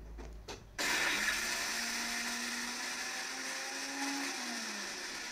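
After a few soft clatters, a mixer grinder whirs on abruptly and keeps grinding semolina batter for medu vada loudly and steadily, its motor pitch wavering slightly.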